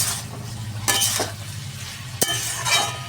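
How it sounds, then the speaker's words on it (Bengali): Potatoes fry in a pan with green and dried chillies, a steady sizzle broken by a few sharp scrapes and clinks of a spatula stirring against the pan. "আর এদিকে দেখো আলু ভাজা বসিয়েছি"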